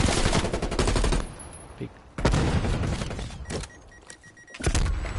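Loud bursts of rapid gunfire alternate with brief pauses in a Call of Duty League match firefight, with a voice briefly speaking between shots.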